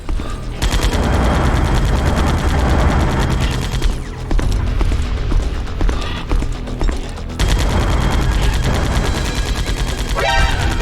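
A stun grenade goes off in Metal Gear Solid: Twin Snakes amid loud, dense game combat, with sustained rapid gunfire-like bursts and booms running almost the whole time and a brief drop in the middle.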